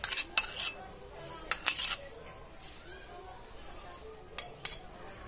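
A spoon clinks against a large bowl while corn, tomato, onion and cucumber are mixed for chaat, giving a few separate bright clatters with quiet gaps between them. The sounds are faint and close, with no speech over them.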